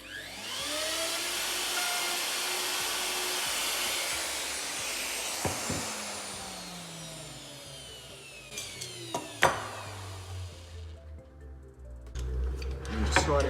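A router cuts a workpiece on a Peanut mini jig, whining loud and steady, then spinning down with falling tones. Clicks and knocks follow as the tool stops, and a voice speaks at the end.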